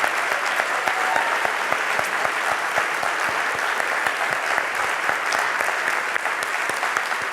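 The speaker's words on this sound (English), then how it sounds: "Can I have another round of applause for our four speakers?" A seated audience at an opening celebration claps for four speakers, a lively, continuous patter of many hands with some individual sharp claps standing out near the listener throughout.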